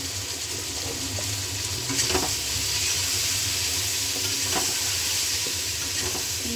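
Eggplant curry with turmeric being stirred in a frying pan, a constant hissing sizzle with occasional scraping strokes of a spatula, close and steady throughout, no one speaking.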